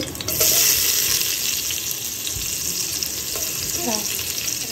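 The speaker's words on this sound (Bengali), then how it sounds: "চিংড়ি, রসুন, শুকনো মরিচ ভেজে রাখছি" Shrimp, garlic and dried chili frying in hot oil in a home kitchen, a steady loud sizzle running throughout with occasional stirring scrapes and a few faint clinks, no talk.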